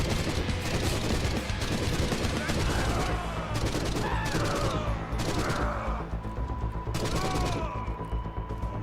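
Gunfire from a weapon in the video game Forgive Me Father, with repeated loud, close shots in heavy bursts over constant game noise and occasional creature cries.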